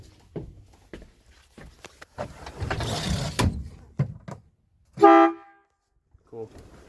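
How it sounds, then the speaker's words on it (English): A vehicle air horn gives one short, loud, close blast, preceded by clattering, rustling handling noises and followed by quieter shuffling. "we'll give the air horn a toot because why not?"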